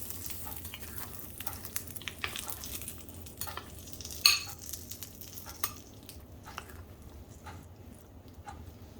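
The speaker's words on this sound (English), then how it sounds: "So now add this seasoning into the chutney. Give the chutney a good mix." Tempering seasoning being mixed into coconut chutney, with soft repeated spoon scraping and stirring clicks over a faint background hiss, and one sharper clink of metal near the middle.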